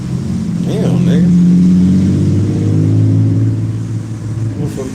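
A car engine revs and accelerates, a low steady rumble swelling and easing over several seconds, loud and close, with talk over it.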